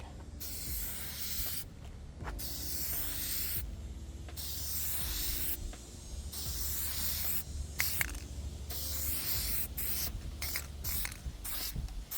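An aerosol can of NextGen headlight clearcoat sprays onto a headlight in repeated hissing bursts of a second or two, separated by short silent pauses, close by and fairly quiet, with no voices.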